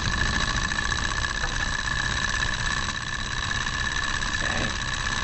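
An ethanol-fueled hot air heat engine runs in a lab, a steady mechanical hum and rapid rhythmic chugging that holds an even level throughout.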